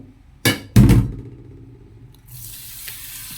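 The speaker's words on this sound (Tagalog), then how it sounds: "Pero hugasan muna natin yung bigas." Rice being washed by hand in water, two sharp splashing sloshes early on, then quiet, then a soft continuous trickle of running water.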